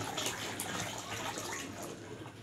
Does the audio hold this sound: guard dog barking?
no